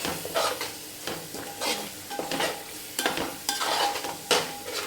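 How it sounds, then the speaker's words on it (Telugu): Spices, chicken masala and biryani masala frying and being stirred in hot oil for a mutton dum biryani, giving a steady sizzle broken by repeated scraping strokes of a spoon against the pan, close and fairly loud with no talking. "చికెన్ మసాలా స్పెషల్ ఇంగ్రీడియంట్ అయిన బిర్యానీ మసాలా ఈ మూడింటిని వేసి బాగా వేయించుకోవాలండి ఈ నూనెలోనే"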